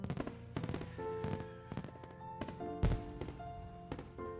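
Fireworks burst in a visual novel game as a series of sharp, fairly faint cracks and pops at uneven intervals, set over soft sustained musical tones.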